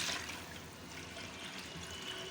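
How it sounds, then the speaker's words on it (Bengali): Hot water pours into a rice cooker pot in a home kitchen while cooking hilsa pulao, a soft, steady trickle that stays faint and even from start to finish. "গরম পানিটা দিয়ে দিব"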